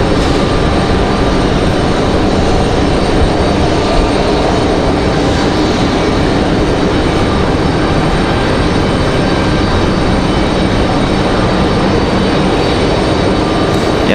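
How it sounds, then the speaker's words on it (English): Breeze Airways airliner touching down at Raleigh-Durham International on a windy day, a steady loud broadband roar of engines and rushing air holding evenly throughout with no voices. "So a little surprise touchdown for Breeze Airways"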